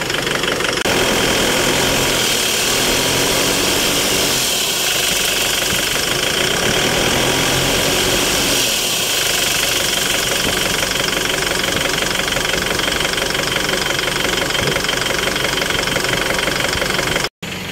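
An Isuzu MU-X diesel engine runs steadily up close with the turbo being checked, a loud continuous knocking rumble that swells and settles as the RPM varies, ending with an abrupt cut.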